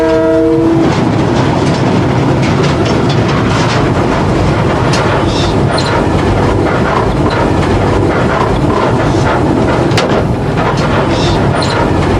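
A loud passenger train rumbles past close by between Bulawayo and Victoria Falls, wheels clattering steadily throughout, with a horn blast at the start.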